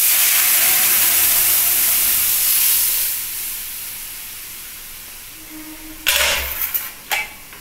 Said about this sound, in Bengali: এবার আমি ডালটা ভেজে দিচ্ছি।